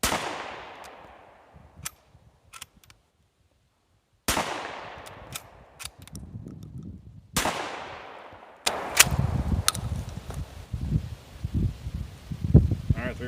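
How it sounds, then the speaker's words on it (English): A Mossberg 190 shotgun fires three loud, sharp blasts outdoors, each followed by a long ringing decay, with rustling and handling sounds between shots and a voice talking near the end. "See if we can get repeating shots out of this thing."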